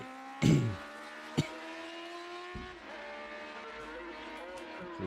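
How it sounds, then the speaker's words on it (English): Racing sidecars roaring around the Mid Antrim 150 road race circuit near Clough, a steady engine drone with harmonic whine and a few sharp loud bursts as machines pass close, the roar continuing throughout. "The last machines to be released onto the Mid Antrim 150 road race circuit around Clough, the sidecars."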